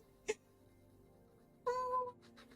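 A person imitating a cat's meow, one short high mew near the end after a brief click, soft and close in a quiet room.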